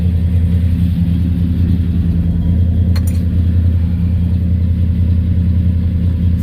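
A 1971 Chevrolet El Camino's engine rumbling steadily at close range while the car moves, a low even drone with a faint tick midway.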